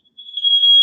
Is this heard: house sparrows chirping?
no